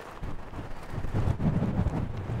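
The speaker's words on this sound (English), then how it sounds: "It's very windy up here." Steady wind buffets the microphone high in the Arizona mountains, a low rushing roar that swells midway and stays constant, with no voices.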